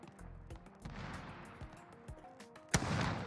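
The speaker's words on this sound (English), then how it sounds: "Hear shots." Gunshots in the Call of Duty video game, a series of sharp reports and bursts spread across the moment, with one loud close blast near the end over a steady game background.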